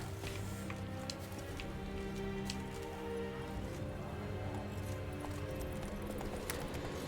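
Hooves of Roach, a horse ridden through the Velen countryside in The Witcher 3, clip-clopping at a steady pace throughout, with music and ambient game sound underneath.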